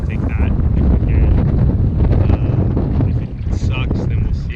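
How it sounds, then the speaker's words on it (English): Strong wind gusting over a lake during a canoe trip in rain and wind: loud, continuous rumbling buffeting on the microphone, with faint higher tones and voices briefly audible under the roar. "If it's really windy like this"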